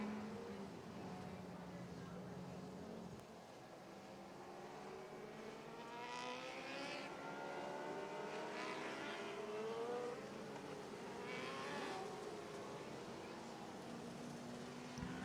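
IMCA Modified race cars circle Sunset Speedway Park, their engines a steady, distant roar with rising and falling pitch as cars pass, continuing throughout under an announcer's voice.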